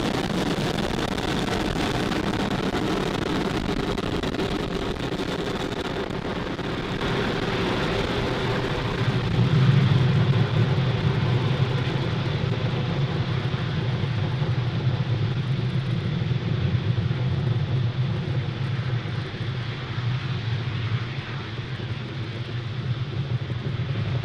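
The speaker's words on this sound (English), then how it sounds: "Falcon 9 has successfully lifted off from Pad" A SpaceX Falcon 9 rocket lifts off on a Starlink launch, heard as a sustained distant roaring rumble that swells partway through and then holds steady.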